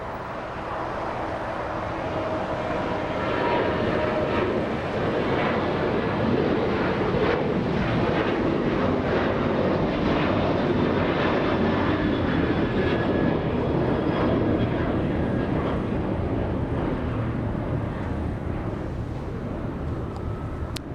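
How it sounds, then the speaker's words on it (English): United Airlines Boeing 787 on approach into Los Angeles International Airport after its flight from Haneda, Japan; a broad engine rumble swells after the first few seconds and holds steady and moderately loud, with some wind noise. "787 coming in, we have, who do we have? We have United Airlines 38 flying in from Haneda in Japan"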